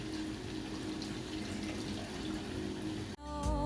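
Water pours steadily into a pot of Swahili beef biryani, a continuous splashing stream lasting about three seconds before cutting off, followed by a brief trickle.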